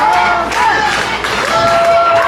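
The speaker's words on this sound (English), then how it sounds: "getting this crowd fired up here at Ignite" Wrestling crowd at the Ignite event cheers and yells in a noisy arena, with a voice over the crowd noise and a couple of louder surges.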